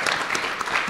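A short burst of audience applause at a film event, steady clapping filling the brief moment without voices.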